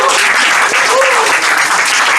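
An audience at a small performance gives close, loud, continuous applause that fills the whole moment, with a faint voice barely surfacing through the clapping.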